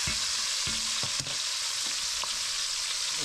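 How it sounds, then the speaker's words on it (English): Tomatoes roasting in a hot pan for a southwest crab dip, a steady loud sizzle and crackle up close, with a few soft knocks of stirring. "I'm going to roast our tomatoes."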